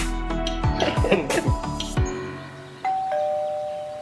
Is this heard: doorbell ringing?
yes